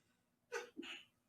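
A single quick sneeze, faint and somewhat distant, with a short intake followed by a breathy burst.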